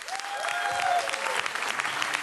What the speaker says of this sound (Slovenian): Aplavz zanje!